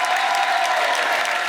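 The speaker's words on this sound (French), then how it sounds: "un tonnerre d'applaudissements pour les Hernadettes" Audience applause for the comedy troupe Les Hernadettes at a televised Paris humour night in Pigalle, a dense, steady wash of clapping filling the whole stretch without a break.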